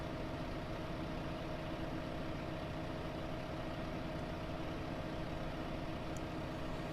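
A tractor engine in the video game Farming Simulator 15 rumbles steadily and continuously, a deep, even idling drone with no pauses and no voices.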